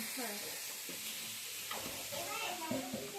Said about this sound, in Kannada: ಉಳ್ಳಾಗಡ್ಡಿ ಫ್ರೈ ಮಾಡ್ತಾರೆ